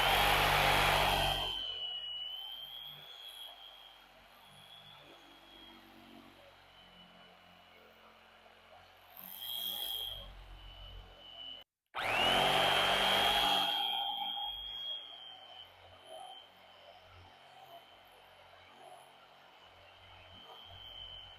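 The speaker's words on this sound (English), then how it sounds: "when you cut this upholstery foam, it's almost like cutting wood" Loud, grinding motor whine of a cutter slicing through upholstery foam, running in two long bursts separated by a quieter stretch and a brief pause.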